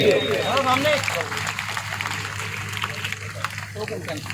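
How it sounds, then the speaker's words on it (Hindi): A crowd claps steadily throughout, with a voice speaking over the applause in the first second. "जोरदार तालियां बजती रहनी चाहिए"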